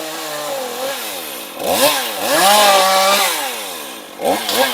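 A chainsaw bites into a dry tree branch out in the open, its engine droning then rising and falling in pitch as the cut loads it, loud and close with no talk.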